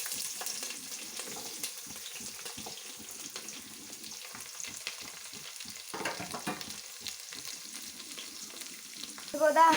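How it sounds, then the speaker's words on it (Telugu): Onion pieces sizzle in hot oil for sambar while a ladle stirs them. A soft, continuous frying crackle runs throughout, with scraping stirring strokes and a louder clatter at the end. "ఉల్లిపాయ ముక్కల్ని కొంచెం ఇలా మనము గంటితో నూనెలో కలిసేలాగా తిప్పుకోవాలి."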